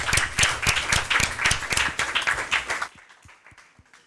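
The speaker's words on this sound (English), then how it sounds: "Maybe we can finish with a round of applause" Workshop audience applauding with dense, many-handed clapping that rises loud and steady, then drops away abruptly to a few scattered, fading claps near the end.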